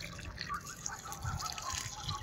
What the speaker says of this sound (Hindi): तो इसी टाइप से मैं ज़रा सब में पानी भर देता हूँ